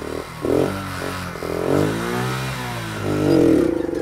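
Tiny motorbike engine revving up and pulling away, a buzzy rising engine note with a couple of throttle swells, close and alone.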